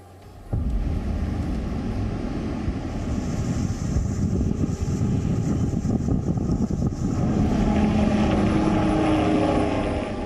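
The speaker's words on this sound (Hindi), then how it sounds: "हेलीकॉप्टर से निगरानी" Helicopter flying cyclone-watch surveillance over the coast during Cyclone Tauktae, a continuous rotor and engine drone mixed with strong wind buffeting, steady and fairly loud throughout.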